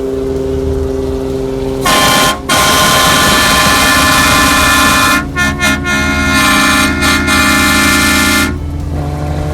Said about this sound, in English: For those of you who don't know what a Horn Blaster Shocker XL kit is, this is it. 4 horns of fury.